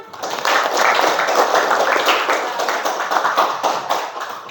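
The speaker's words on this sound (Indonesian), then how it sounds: "Oke, tepuk tangan." Classroom of students clapping their hands together, a close, lively burst of many hands lasting several seconds before tapering off.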